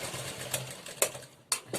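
Sewing machine stitching a katori blouse, a quiet whirring run with a few sharp clicks and knocks of the mechanism, close up and without talk.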